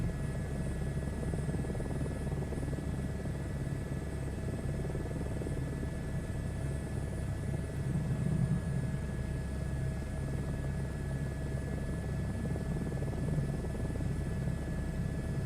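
A helicopter in a virtual reality flying game gives off a steady, continuous rotor and engine drone that stays even and dense for about fifteen seconds, with no voices over it.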